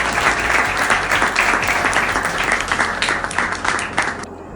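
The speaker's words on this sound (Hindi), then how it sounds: "चेतन शर्मा जी के लिए एक जोरदार तालियां" A crowd at an Abhinav Bharat Party gathering applauds loudly for Chetan Sharma. The dense, steady clapping fills the space and then thins out and fades near the end.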